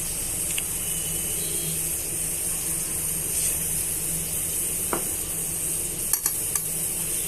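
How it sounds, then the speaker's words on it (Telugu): Steady sizzling in a hot pan as a thick onion and tomato puree is stirred into the tempering for a fish curry, a few light utensil clinks near the end. "ఈ ప్యూరీని ఆనియన్స్ టమాటో ప్యూరీని ఈ గ్రేవీలో వేస్తున్నానండి"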